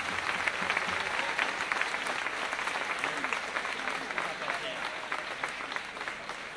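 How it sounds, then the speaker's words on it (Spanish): Live concert crowd applauding a guitarist introduced on stage at Plaza San Felipe in Zaragoza, a sustained outdoor wash of clapping with scattered voices and cheers throughout. "Un aplauso."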